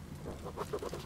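Soft, rapid clucking from a chicken in the video game Metro Exodus, a few short bursts in a row, set against a steady low background hum.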